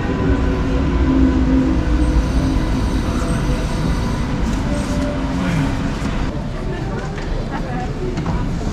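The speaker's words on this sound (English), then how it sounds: "Train ride to take another train ride." A Swiss passenger train rumbles steadily along the rails from inside the carriage, with a low continuous roll and faint squeals, while people talk over it.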